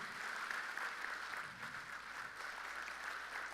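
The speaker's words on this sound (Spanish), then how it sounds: "Dele un aplauso al Señor o algo" A congregation at a church conference applauds during the preaching, a soft, distant, even patter of clapping that continues steadily without a break.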